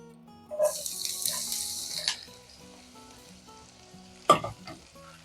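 Chopped onion dropped into hot oil in a pan for mutton gravy, a bright sizzle that flares then settles, with water running from a tap and a sharp clatter near the end.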